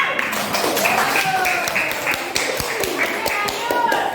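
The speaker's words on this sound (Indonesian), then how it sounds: "Tepuk tangan yang bisa." Classroom applause for a group that answered correctly, heard as a run of sharp, fairly close hand claps and taps that keep an uneven beat under steady talk.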